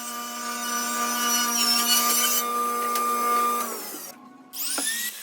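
A saw rips a small strip of wood for trim pieces, a steady whining motor drone holding for about four seconds before winding down, followed by a brief restart.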